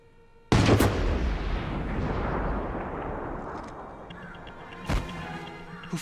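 A single loud, close gunshot from an action movie cracks out suddenly and then rolls into a long, fading boom; a second, smaller sharp report follows near the end, with no talk.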